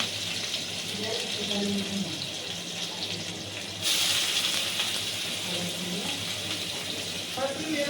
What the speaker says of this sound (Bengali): এখানে আমরা পেঁয়াজটা লাল লাল করে ভেজে নিচ্ছি।